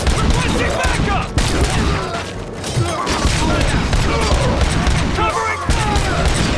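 Dense, continuous gunfire from a RoboCop: Rogue City shootout, rapid overlapping shots and bursts filling the mix with booming impacts and other game noise, with voices calling out beneath the din.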